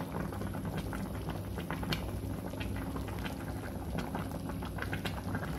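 Paksiw na tilapia simmers in a pot, a steady close bubbling boil with small pops and patters throughout and no talk.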